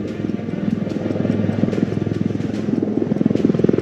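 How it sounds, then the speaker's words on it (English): Sukhoi 30 fighter aircraft touching down at the Aero India air show in Bengaluru, a loud, steady roaring drone with a pulsing, throbbing texture throughout, no talk over it. "you're now seeing the aircraft touching down"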